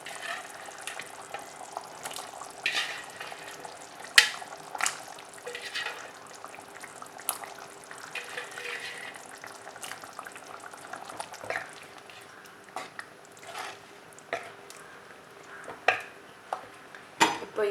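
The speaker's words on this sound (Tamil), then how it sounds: "ஒரு 10 நிமிஷமாக இது கொதிச்சிட்ருக்கு" Anchovy fish curry (nethili meen kulambu) simmering in a pan, with a steady low bubbling hiss broken by scattered clinks of utensils against the pot throughout.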